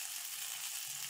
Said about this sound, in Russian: А так две картошки дожарил, тем более сковородка большая.